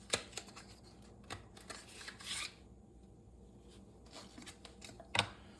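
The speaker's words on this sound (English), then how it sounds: "I am just going to slice the deck" A deck of tarot cards is shuffled and cut by hand, giving soft close papery rustles and flicks with a few sharper snaps and quiet pauses.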